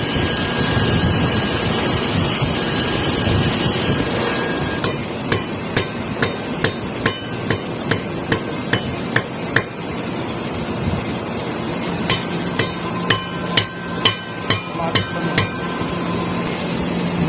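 A new bearing is hammered onto the metering roller of a printing press, a run of sharp metallic blows at a steady rhythm that pauses and then resumes in a quicker burst, heard close against a constant mechanical hum.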